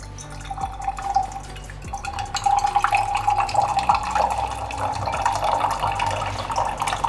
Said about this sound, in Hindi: ये देखो यहाँ से पानी आना शुरू हो गया